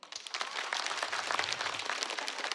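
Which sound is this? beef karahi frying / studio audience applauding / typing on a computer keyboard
studio audience applauding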